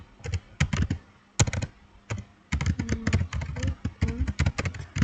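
Rapid clattering keystrokes on a computer keyboard, typed in quick bursts with brief pauses between, close and clear with no talking.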